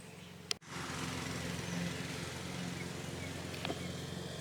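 A mower drones steadily in the distance while mowing a field on a tropical flower farm in Puerto Rico, a low continuous engine hum under faint outdoor noise with a brief knock near the start.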